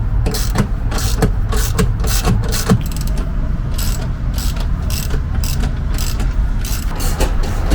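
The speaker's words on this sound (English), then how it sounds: "so last bolt coming out of here" A hand ratchet clicks rapidly and steadily while backing out a seat bolt in a Sprinter van, close and loud with a continuous mechanical pawl rattle throughout.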